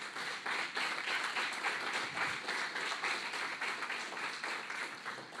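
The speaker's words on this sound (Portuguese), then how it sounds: "Você pode aplaudir o Senhor por isso?" A church congregation at a Portuguese-language service applauds, a dense, sustained roar of many clapping hands that stays even and full for over five seconds.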